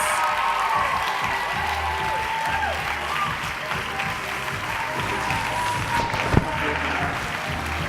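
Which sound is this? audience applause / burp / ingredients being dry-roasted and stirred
audience applause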